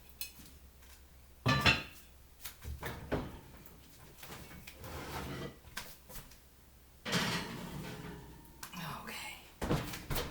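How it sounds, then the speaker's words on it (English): A Dutch oven with its lid on is set into a kitchen oven, and the oven door closes, giving a few dull thunks and clanks among quiet movement while a person talks softly nearby. "I need to put the Dutch oven in the oven"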